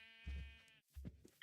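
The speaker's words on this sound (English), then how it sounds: "Come on, you stupid sheep." Two Minecraft sheep bleats, the first long and wavering, the second shorter after a brief pause, fairly quiet and close.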